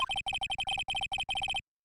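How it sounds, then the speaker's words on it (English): Phone ringtone playing the Steel Samurai theme in the Phoenix Wright video game, a rapid chiptune melody of short staccato beeps in quick bursts, loud and clean, then stopping abruptly. "I know that song your phone plays when it rings."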